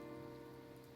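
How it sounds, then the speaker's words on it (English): Steady rain falling in the video game Blue Reflection, a dense, even hiss of drops on surfaces with no break, close and constant throughout. "Would like to know how she kept it up dry in all this rain though."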